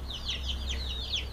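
Backyard hens, including a black hen, make short repeated clucking calls through a steady low hum, several soft squawks spread across the moment at moderate distance.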